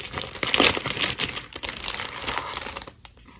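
A Shein order package is torn open, with close, loud plastic crinkling and crushing in irregular bursts that fade near the end.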